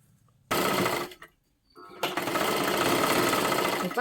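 A sewing machine stitching a blouse slowly runs in two loud, close bursts, a short run and then a longer steady whir, with a brief quiet gap between them.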